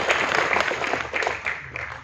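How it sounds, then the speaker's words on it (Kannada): Loud, dense applause from an audience at a civic felicitation ceremony in Bengaluru, steady and continuous throughout, with voices faintly mixed in. "ಜೋರಾದ ಚಪ್ಪಾಳೆ."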